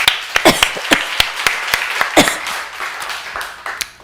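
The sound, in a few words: church congregation applauding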